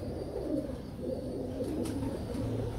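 Teddy pigeons coo softly in a low, murmuring stream, with faint, continuous throaty calls over a dull background hum and no voices.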